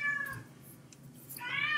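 A pet cat meows twice indoors, a short mew followed after a pause by a longer, rising meow, close and clear over faint room noise.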